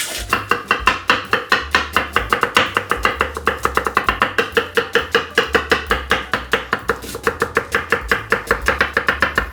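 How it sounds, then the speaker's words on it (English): A knife dices onions on a cutting board in a fast, even rhythm of sharp chops, loud and close, continuing without pause for the whole stretch with no talking. "So to start, we're going to need to get our onions diced up here."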